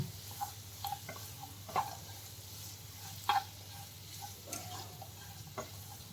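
A dry potato dish (bateta ni suki bhaji) is stirred with peanut powder and roasted peanuts in a pan: quiet, faint scrapes and taps of a spoon recur every second or so over a low sizzle.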